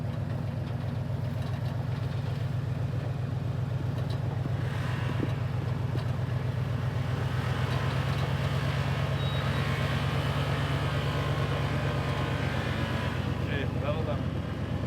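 A Chevy Suburban's engine runs steadily at a low rumble and rises slightly as gas is applied, heard up close for the whole stretch, with people talking now and then.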